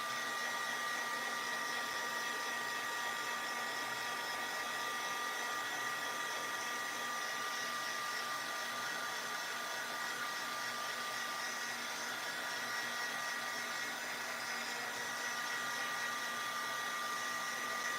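A hair dryer on its lowest setting blows steadily across damp card pieces for a pop-up diorama card, a continuous even whoosh with a faint whine, close and unbroken, with no talking.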